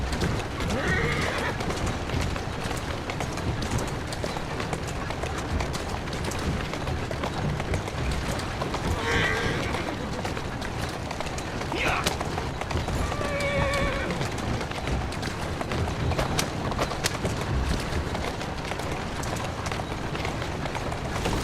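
In the Assassin's Creed Syndicate video game, a horse-drawn carriage rolls on, hooves clopping steadily under a constant rumble of wheels, with a horse whinnying a few times and voices speaking over it.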